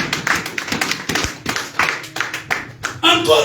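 A church congregation claps in quick, uneven bursts to acclaim God during a French-language sermon, the taps loud and close with voices mixed in.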